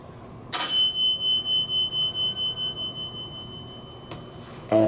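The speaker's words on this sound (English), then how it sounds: "I'm gonna ring the bell." Elevator bell on a Fujitec hydraulic elevator at Rice University, rung once with a sharp metallic strike whose tone rings on and slowly fades, then a faint second tap and another strike at the end.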